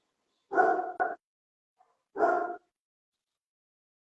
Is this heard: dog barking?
yes